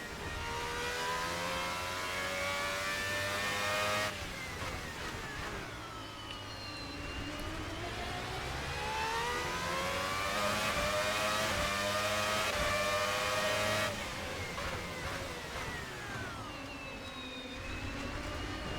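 Formula V12 racing cars in the Assetto Corsa game at the Bahrain GP, a loud continuous high engine whine that climbs and falls with gear shifts, with other cars close by and no talking.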